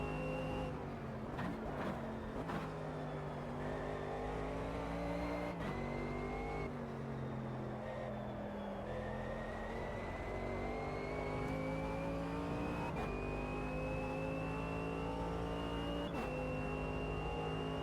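A race car engine in the racing game Automobilista 2 drones steadily and loudly throughout, rising in pitch through the gears with several brief drops at gear shifts, heard alone with no talk.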